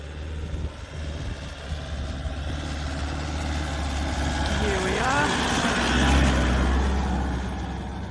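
Off-road vehicle engine idling low and steady while the clutch is let out on a desert track, the rumble swelling slightly, heard under voices talking nearby.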